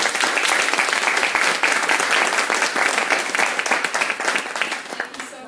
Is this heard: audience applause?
yes